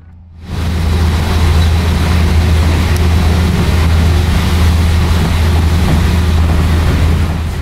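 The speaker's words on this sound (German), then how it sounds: "So auch der SGMM, mit dem ich jetzt hier das letzte Stück bis Nijmegen zurücklegen werde" Dutch SGMm electric train riding beneath the Betuwe Route, a steady, loud rumbling roar with a strong low hum that rises quickly and holds evenly throughout, no voices.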